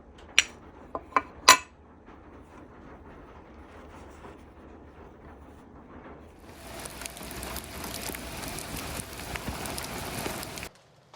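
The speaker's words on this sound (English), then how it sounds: "it is a rainy day here in Louisiana" Rain falls outside on a rainy day in Louisiana, heard from under a canopy; a few sharp clinks come first, then a soft patter that builds into a steady hiss of heavier rain.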